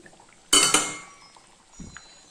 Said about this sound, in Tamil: இப்போ நம்ம பன்னீரை போட்டுக்கலாம்